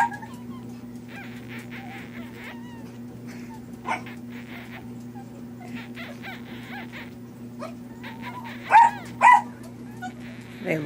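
Newborn puppies give a few faint, brief yips and whimpers near the end, over a steady low hum and soft background chatter.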